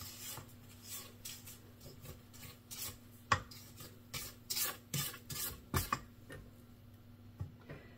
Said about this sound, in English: Take you a spoon, scrape down the side so you get all the stuff mixed up.